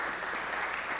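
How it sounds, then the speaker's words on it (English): Audience at a mental health panel discussion claps for the panelists, a brief, dense burst of applause lasting about a second, steady and moderately distant. "Let's give them a big round of applause."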